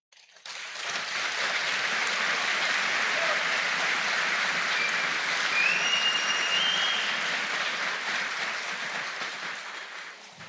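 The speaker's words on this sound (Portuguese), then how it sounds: "Nós deveríamos aplaudi-los." Sustained audience applause fills a lecture hall at a men's gathering in Jundiaí, a dense even wash of many hands clapping that swells briefly in the middle and tapers off toward the end, with no talking over it.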